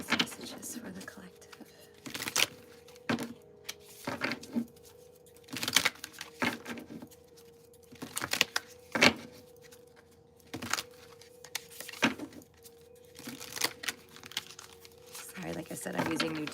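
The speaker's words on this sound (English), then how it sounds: "I'm using new decks, so I just want to make sure they're really well shuffled" New oracle card decks being shuffled in repeated short riffling bursts at irregular intervals, close and moderately loud, with a steady low hum underneath.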